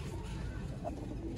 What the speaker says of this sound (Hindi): सियालकोटी लाल मोतियों वाले मास्टर अब्दुल्ला वाले कबूतर